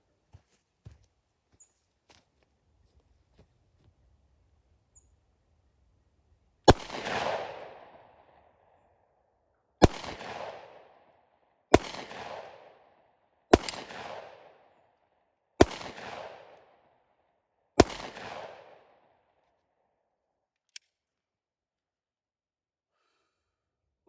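A Glock 43 pistol fires six shots at a target 25 yards away outdoors. The sharp reports come at uneven intervals of about two to three seconds, each followed by a short echoing tail, with quiet between them.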